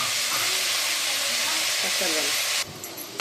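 A steady hiss of grated bottle gourd sizzling in a hot pan, with a voice speaking over it, then the sizzle suddenly quiets near the end.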